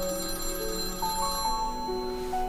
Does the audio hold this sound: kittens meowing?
no